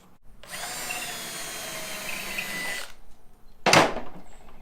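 Power drill driving Kreg pocket-hole screws into wood for a poolhouse cabana build, one long steady whine of about two and a half seconds, then a short sharp burst after a pause, close and loud.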